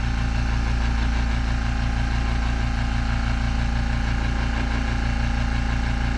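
A Makita air compressor's capacitor-start motor runs steadily at close range, a continuous even hum with a regular low pulsing throughout and no speech.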